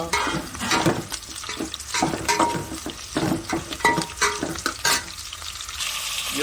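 Green chillies and chopped tomato frying in a pan for gongura pulao, with steady sizzling broken by repeated scrapes and clinks of a spoon stirring through the pan, close up and without talk.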